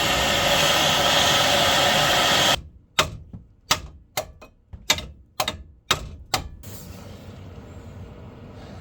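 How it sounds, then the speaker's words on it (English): Sharp metallic hammer blows ring out on a 2014 Renault Clio's wishbone suspension part, about eight strikes in an uneven rhythm, following a few seconds of loud broadband noise. "You have to hammer it a lot."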